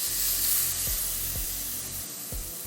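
Steady sizzling of tamarind being added to hot spices in a pan for a village-style fish curry, a continuous close hiss with a few soft clinks of a utensil, no talking.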